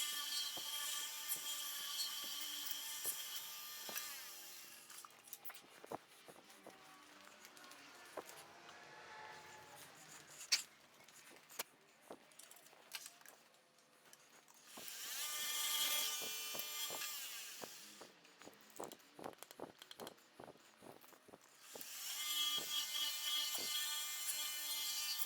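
A wood lathe turns hobby knife handle blanks with a soft, steady whirring hum, broken by scraping tool contact and faint clicks, at low overall level.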